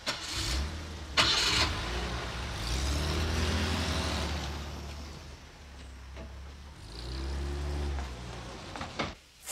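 A car engine in a 1981 German crime drama cranks, catches and idles, then revs and pulls away, fading toward the end. The sound is close and fairly loud, with no talking.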